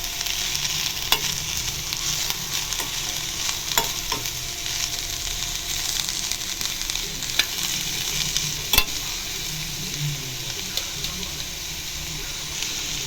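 Beans and carrot stir-frying in oil with salt, a continuous close sizzle broken by occasional spatula scrapes and clicks against the pan, steady throughout with no talking.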